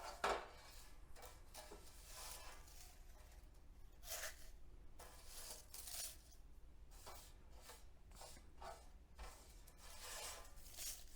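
Dried, crispy leaves are crushed by hand, giving faint, close crackling and rustling in irregular bursts over a quiet background.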